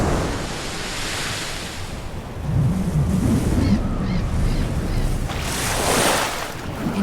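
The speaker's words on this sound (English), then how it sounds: "Waves, bigger than whales, bigger than ships." Heavy ocean surf rolls and crashes during a storm at sea, a dense continuous roar with wind blowing over it, loud and steady with rising surges.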